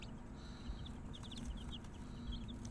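Newly hatched chicks in a brooder after leaving the incubator peep in a steady stream of short, high chirps over a constant low background hum, with no talking.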